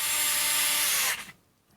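SKIL Twist 2.0 4V rechargeable electric screwdriver whirring loud and high for about a second, then winding down abruptly as it stalls against a socket.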